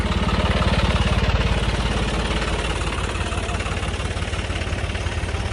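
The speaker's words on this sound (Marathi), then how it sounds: "तर बघू एक इचेरू चढतो का नाही ट्रॅक्टर." A tractor engine laboring steadily as it climbs a large steep slope on a farm track, a loud continuous low throb with a fast regular pulse that holds near and constant throughout.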